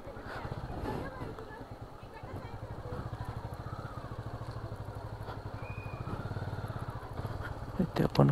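Touring motorcycle engine idling and putting along slowly while being parked near a crowded beach at Ganapatipule on the Konkan coast, a steady low rumble with faint wind and background noise.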